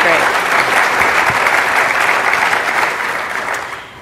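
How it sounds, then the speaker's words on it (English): Sustained audience applause at a conference, loud and dense from start to finish, a steady wash of many hands that tapers gently over the last half second. "I think we all should give him a round of applause at our rally."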